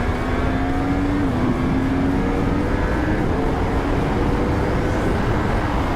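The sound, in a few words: motorcycle engine revving with throttle partly opened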